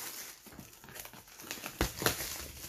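Board game box packaging from a Kickstarter delivery being cut open, close crinkling and tearing of plastic wrap with a few sharp slicing rips.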